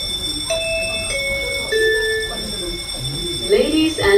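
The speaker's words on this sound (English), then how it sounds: "The fire alarm has been activated." A building fire alarm chimes in a series of clear electronic tones that step and glide between pitches, loud and close, with a voice-like announcement sound toward the end.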